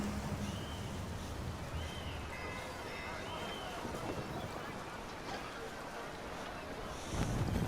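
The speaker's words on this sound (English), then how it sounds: "Gusty winds can be difficult to manage." Steady wind and rushing water around a sailing ship at sea in Assassin's Creed 3, a continuous broadband whoosh throughout with no speech, swelling slightly louder near the end.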